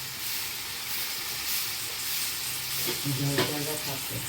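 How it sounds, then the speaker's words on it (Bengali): Vegetables fry with spices in a pan, a dense close sizzle with spoon strokes stirring them, and a brief louder clatter near the end, no voices. "মশলার মধ্যে দিয়ে দেবো সবজিগুলো, দিয়ে একটু নাড়বো।"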